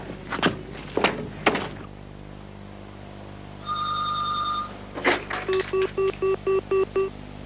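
An old-fashioned payphone in use: a few heavy clunks of the handset and mechanism, a sustained tone, more clunks, then a rapid series of evenly spaced beeping pulses.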